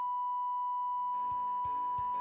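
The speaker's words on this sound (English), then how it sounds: "There's gonna be a giant censor sound" A long, steady censor beep tone runs loudly from start to finish during Splatoon 3 gameplay, with faint game sounds and a few thumps emerging underneath in the second half.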